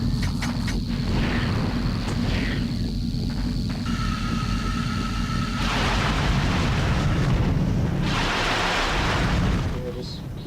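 Repeated RYNO rocket blasts and rumbling explosions in Ratchet and Clank fill the clip with dense booming roar, layered with game effects and a brief high tone, loud and continuous throughout.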